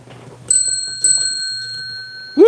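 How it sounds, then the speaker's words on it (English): A bell rung with a nose gives two sharp metallic dings about half a second apart, each leaving a sustained bright ring, followed by a voice cheering at the end. "I'll ring the bell with my nose"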